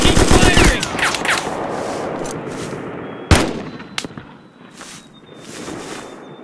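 Gunfire in the war game Mud and Blood: a dense burst of rapid shots at the start, then a rumbling battlefield bed punctuated by a few sharp single cracks, loud and close.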